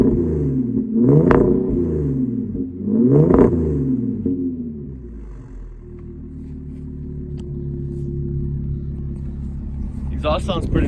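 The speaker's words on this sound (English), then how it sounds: "I'm gonna set up the camera right here so you can hear the exhaust." An Audi A5 salvage car with a modified exhaust idles close by with a low, burbling rumble, swelling in two revs early on, then settling into a steady idle before a brief sharper noise at the end.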